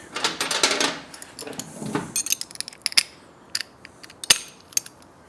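An 8mm Allen key turning an exhaust bolt while installing an X-pipe with mid pipes on a Euro 5 Triumph Speed Twin 1200 motorcycle: a close run of sharp, irregular metallic clicks and scrapes, with no voices.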